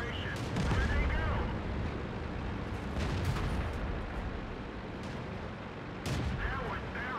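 Tank cannons fire in World of Tanks on the Malinovka map with a Pz38nA in play, giving several sharp booming shots over a constant rumble of game noise, with voices faintly in the background.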